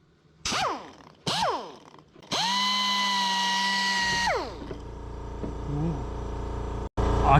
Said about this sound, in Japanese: 今からこれをエアポリッシャーを使ってポリッシングします。